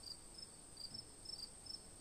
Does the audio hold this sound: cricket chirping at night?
yes